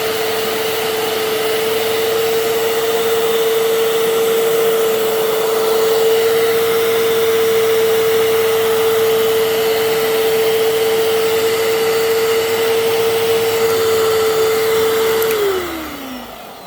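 A Fantom Fury Limited Edition upright vacuum cleaner with its brush roll spinning runs with a loud, steady motor whine close by, then winds down as it is switched off near the end.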